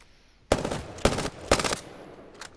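A heavy-ammo gun fires three sharp, evenly spaced bursts in Apex Legends, each a short loud rattle about half a second apart, followed by a fainter trailing shot.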